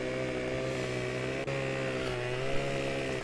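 A chainsaw in Farming Simulator 15 drones steadily at a constant idle-like pitch, close and continuous, with a brief click partway through and no voices.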